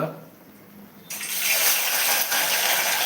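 Chicken dropped into hot oil in a pan, an abrupt loud sizzle and splatter that starts suddenly and continues as a steady hiss.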